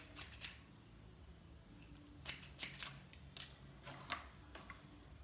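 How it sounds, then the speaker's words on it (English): Thinning shears snip through a hair system in a quick series of crisp, close, fairly quiet cuts, with short pauses between bursts and no talking. "I would come back with my thinning shears and just take a little way down"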